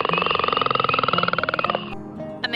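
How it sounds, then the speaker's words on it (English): A leopard frog calls in a long, rapid, pulsing snore-like trill that runs steadily for nearly two seconds, loud and close, then stops abruptly. "Leopard frog."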